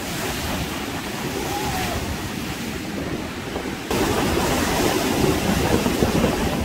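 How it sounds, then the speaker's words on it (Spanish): Strong ocean waves crash and roar steadily along the East Sea coast of Korea, a dense, continuous wash of surf with wind buffeting the microphone, growing louder partway through, with no talk. "Tan fuertes las olas."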